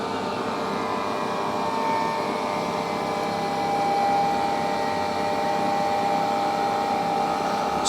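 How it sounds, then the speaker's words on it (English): A NAVAC vacuum pump evacuating the sealed system of a mini fridge, a steady, loud mechanical drone with a whining tone that holds unchanged throughout. "So now the unit will start to vacuum the system."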